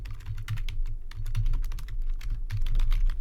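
Rapid, steady clicking of a computer keyboard as text is typed into a Google Doc, close and fairly loud with no one speaking.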